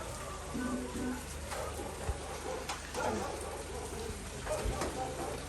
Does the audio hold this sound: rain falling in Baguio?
yes